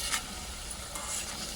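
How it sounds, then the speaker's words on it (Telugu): Potato snacks deep frying in hot oil, a steady close sizzle with soft bubbling and a light stir or two, quiet and continuous throughout with no voices. "నెమ్మదిగా డీప్ ఫ్రై అవుతాయి."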